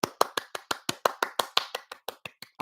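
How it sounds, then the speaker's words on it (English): Two hands clap quickly and evenly about fifteen times in under three seconds, sharp close claps with no talk between them. "I'm clapping for all of you"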